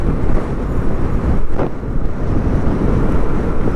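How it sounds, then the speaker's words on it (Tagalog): Strong wind buffets the microphone in a steady, loud roar, with low rumbling gusts throughout and no voices, during a drone flight. "Malakas yung hangin."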